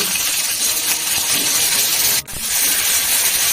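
Hot oil in a pan sizzles as dried red chilies and pointed gourd (potol) go in, giving a loud, steady hiss that briefly dips and then surges back.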